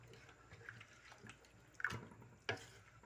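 Water being poured into a pot of chicken pulao on a home stove, a faint, brief splashing with a couple of sharper splashes, no talking.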